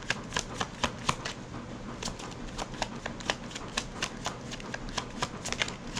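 Tarot cards being shuffled by hand during a reading, a steady run of crisp riffling snaps and soft flutters repeating across the whole stretch, close and fairly quiet with no talk.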